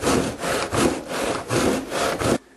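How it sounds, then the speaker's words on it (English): A hand saw cuts into the metal tub of a Willys Jeep in steady back-and-forth strokes, about six rasping passes, loud and close, stopping abruptly near the end. "so saw will do for now"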